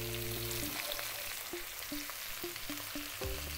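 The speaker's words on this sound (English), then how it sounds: "Now I'm adding a bit of the chili" Chili going into a frying pan of pumpkin curry, with a steady hot-oil sizzle throughout and light scraping and stirring clinks recurring every half second or so, up close.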